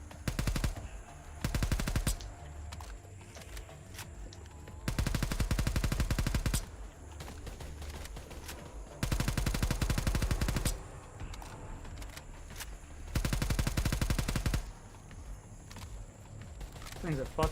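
Bursts of full-auto AK rifle fire in a zombie shooter, four long sustained strings of rapid shots separated by quieter pauses, with a few short single bursts early on, loud and close.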